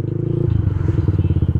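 A motorcycle engine chugging unevenly at low revs, its pulses sputtering and irregular as it stalls, close and fairly loud with a faint voice underneath.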